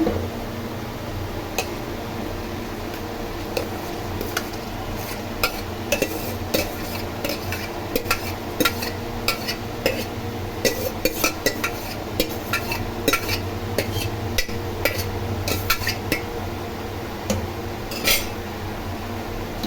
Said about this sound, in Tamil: அப்படியே கிண்டி விட்டுருங்க